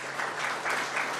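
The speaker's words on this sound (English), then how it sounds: "So let's have a round of applause for them" Audience applause at a press event on shark safety, a steady wash of many hands clapping, moderately near, swelling in a few pulses over a short stretch with no voices.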